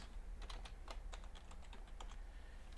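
Typing code on a computer keyboard, a quick uneven run of soft key clicks heard close up and fairly faint, with no talk.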